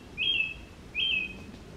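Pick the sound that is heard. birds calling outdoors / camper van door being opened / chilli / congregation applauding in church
birds calling outdoors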